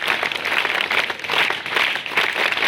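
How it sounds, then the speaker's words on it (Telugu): An audience at a public felicitation event claps for two honourees, a dense, continuous wash of applause that swells and dips in waves throughout, with no speech over it. "వీళ్ళిద్దరికి ఒకసారి గట్టిగా చప్పట్లు కొట్టి ప్రత్యేక అభినందనలు తెలియజేస్తున్నాం"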